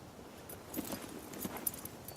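Faint, irregular clip-clop of horse hooves, a few soft thuds against quiet background noise.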